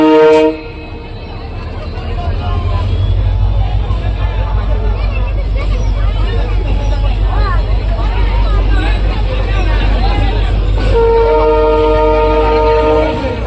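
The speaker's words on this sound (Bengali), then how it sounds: "আর এই যে এখন ধীরে ধীরে যাচ্ছে। সবাই যখন সাইড দিয়েছে তখন ধীরে ধীরে যাচ্ছে।" A train creeps across a railway bridge through a dense Mahalaya festival crowd, its horn blaring at the start and again near the end over a steady low rumble and constant crowd babble.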